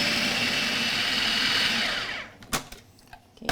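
A blender whirs loudly and steadily as it purées scallops with salt and pepper for about two seconds, then cuts off, followed by a few clicks and knocks.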